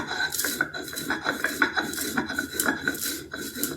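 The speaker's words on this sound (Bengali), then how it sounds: "সেটা আমি এবার গুঁড়ো করে নিচ্ছি" Dry-roasted spices are ground to powder by hand for a vegetarian Bengali aloo dum. Steady rhythmic rasping and rubbing strokes repeat close up with no voices.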